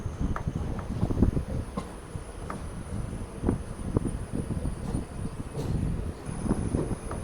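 The Guruvayur–Madurai Express train in Kerala switching from the main line into the loop line near Puthukkad station, heard as a soft, steady rolling rumble with repeated faint wheel clicks over the points and no voices.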